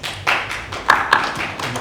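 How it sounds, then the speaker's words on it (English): Handclaps from Team Lomachenko at a boxing press conference, a brief scattering of claps from a small group in a room, moderately loud and fairly close. "That was Team Lomachenko down there giving me a clap"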